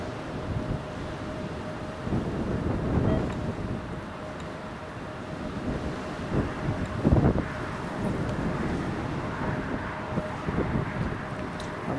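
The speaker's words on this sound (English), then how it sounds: "Wind's still gusting." Gusting wind buffets an outdoor microphone at Newcastle Airport, a steady roaring rush with stronger swells and bursts that come and go throughout, close and fairly loud, with no voices.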